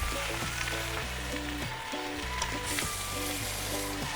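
Spinach sizzles and fries in hot oil in a pan with salt, pepper and persillade, a steady close crackle running throughout with faint stirring.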